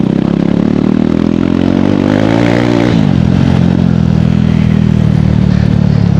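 KTM Duke 390 motorcycle ridden at speed, its engine droning loudly and steadily throughout with a brief pitch dip and recovery midway, plus wind buffeting and rattle.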